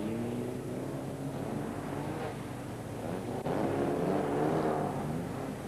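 Folkrace cars, among them a red-yellow Volvo 240, race through the last lap at Eskilstuna. A steady, fairly distant engine roar holds through the clip and swells slightly near the end.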